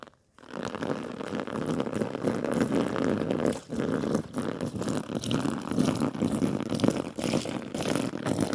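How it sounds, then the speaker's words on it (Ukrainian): Water pours steadily onto an XXXL oversized sleeping bag, 210 by 115 cm, as a waterproofing test, a continuous close splashing gush with brief dips in flow. "Я ось набрав водичку, набрав водичку, зараз буду лити."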